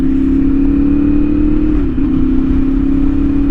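A CFMOTO 450SS motorcycle with a new exhaust drones loud and close at a steady high idle, a constant buzzing tone that dips briefly midway before holding again.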